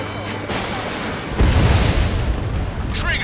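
A missile launches and explodes in the Ace Combat 7 jet combat game, a rushing roar that swells into a heavy, sustained rumble, with radio chatter voices over the noise.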